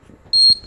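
A single short, high electronic programming beep from an RF amplifier remote sounds once, clean and close, with a faint background hiss around it.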